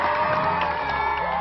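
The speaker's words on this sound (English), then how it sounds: "Let's give her a big round of applause." A school crowd of children and staff cheers and whoops loudly at close range, a dense continuous burst of cheering filling the space.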